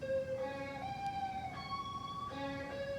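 A sustained electric guitar plays a few held, gliding notes with a smooth, singing amp-simulator plugin tone, no voices.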